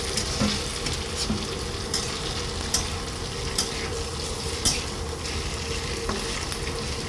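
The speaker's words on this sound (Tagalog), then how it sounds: "nagisa tayo ng bawang sibuyas" Garlic and onion sautéing in a pan, a steady close sizzle with stirring scrapes and occasional clinks of a utensil throughout, with no talking.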